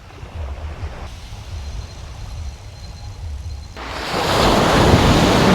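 Sea waves break on a beach during rough seas at a beach campsite: a low rumbling surf builds steadily, then a loud breaking wave crashes in near the end, with wind noise throughout and no voices.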